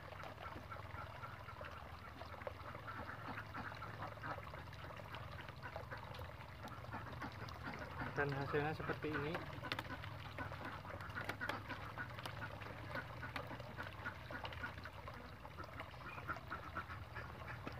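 Ducks quacking on a duck farm, a steady chorus of many birds at moderate distance under a short spoken remark, with a slightly louder burst of calls midway.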